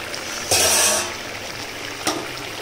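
Water poured into a hot pan of fried ridge gourd and potato, a sudden loud hissing sizzle that swells for about half a second and fades, followed later by a second shorter splash.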